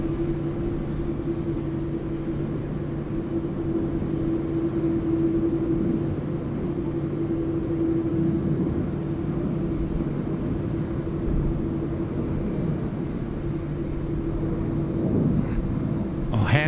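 A Qantas jet departs Sydney Airport's runway 34 left at night, bound for Honolulu, its engines a steady, fairly distant roar that holds for the whole stretch with a faint tonal whine on top.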